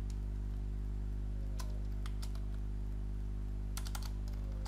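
Keys clatter on a computer keyboard in short bursts of quick taps over a steady low electrical hum, with a couple of small pauses between the runs.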